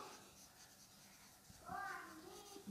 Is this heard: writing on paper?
yes